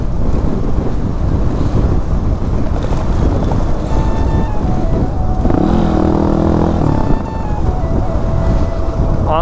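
A motorcycle ridden on a road, its engine droning under heavy, continuous wind buffeting on the microphone, loud and close throughout, with a faint voice and a brief horn-like tone midway.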